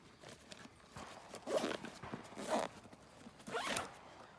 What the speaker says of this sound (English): Zipped up.